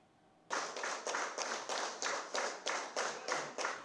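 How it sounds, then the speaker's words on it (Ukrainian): At the opening of a photo exhibition in Cherkasy honoring mothers of fallen soldiers, a crowd claps in slow, rhythmic unison, about ten even beats roughly every third of a second, starting abruptly after a quiet moment. "Ці оплески матерям, які втратили на війні синів."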